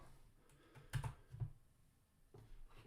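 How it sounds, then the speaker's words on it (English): Someone types on a computer keyboard, a quick handful of soft clicking keystrokes close by and faint against a quiet room. "you're going to type in"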